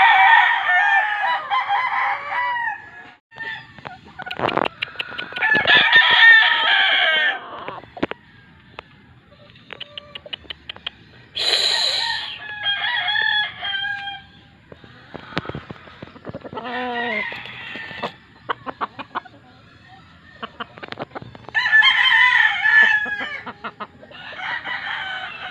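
A rooster in a farmyard crows repeatedly, loud and close, with several drawn-out calls spaced across the stretch and clucking from fowl between them.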